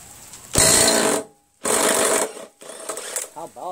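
A socket ratchet loosens a bolt on a Briggs & Stratton Quantum engine from a Murray Craftsman mower, in three loud bursts of rapid, buzzing clicks separated by brief silences, with a voice speaking briefly at the end.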